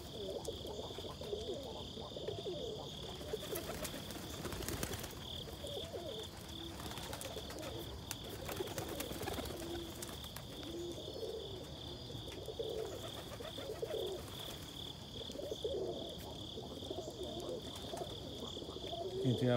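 Young racing pigeons coo softly and repeatedly in the background over a steady high-pitched hum, with occasional rustling and clatter nearby.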